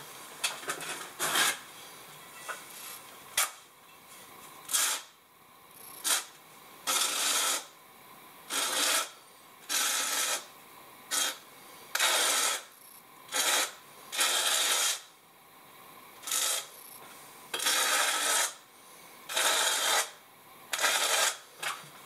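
A trowel skims thinset mortar onto a shower ceiling before tiling, giving a steady run of about fifteen close, rasping scrape strokes separated by short pauses, with no talking.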